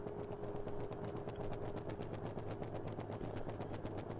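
Race car with a flat-spotted tire at the Daytona 14-hour ChampCar endurance race, giving a rapid, steady thumping that pulses without pause over a constant loud engine roar.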